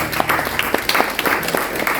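A church congregation applauds together, a dense wash of many hands clapping at close range with scattered sharper claps and a faint voice or two beneath.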